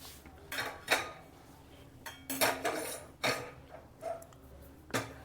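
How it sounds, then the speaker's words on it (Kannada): Metal frying pan set back onto a stove while making jaggery syrup for sesame laddu, giving several clanks and clinks of cookware, close and moderately loud, with no talking. "ಈ ಬಾಣಲೆ ಮತ್ತೆ ಇಟ್ಕೊಳ್ಳಿ ಸ್ಟವ್ ಮೇಲೆ"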